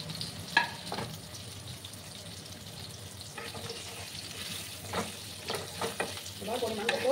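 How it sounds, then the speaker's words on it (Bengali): Long-cut potato strips frying in hot oil for a boal fish curry, a continuous soft sizzle with occasional stirring scrapes and clatters near the end, heard close with no talk. "আলুগুলোকে আমি একটু লাল লাল করে ভেজে নেব।"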